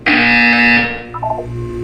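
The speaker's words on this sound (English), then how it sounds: "You will hear a buzzer." Loud electronic buzzer in the video game Portal 2, a single sustained harsh tone that cuts off after about a second, followed by a short rising electronic blip sequence.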